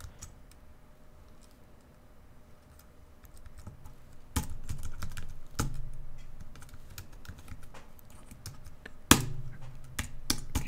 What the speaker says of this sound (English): let's type this destination.